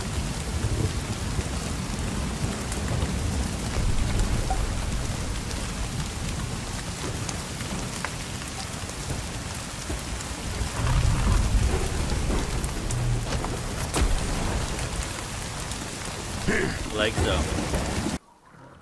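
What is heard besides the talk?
thunderstorm with rain and lightning in The Cycle: Frontier video game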